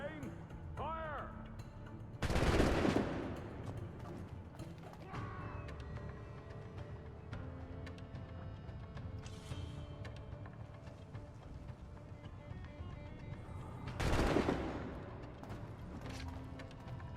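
Musket volleys in Assassin's Creed IV Black Flag, two loud bursts of massed gunfire several seconds apart over ambient battle noise and a talking voice.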